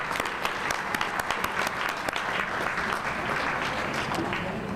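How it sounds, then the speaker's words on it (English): A crowd at a senior volunteer recognition gala claps steadily in sustained applause, with a few louder individual claps and light chatter blending in. "So if you could give them a round of applause,"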